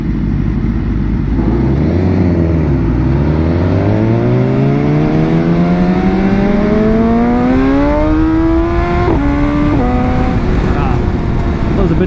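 A BMW S1000XR motorcycle engine revs up steadily during a wheelie, its pitch climbing loud and close for several seconds before abrupt shifts and a brief drop near the end.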